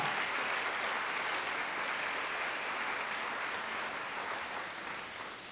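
Church congregation applauding during a Portuguese-language worship service, a steady dense wash of clapping that fills the whole span at even loudness, tapering slightly at the end, with no voice over it.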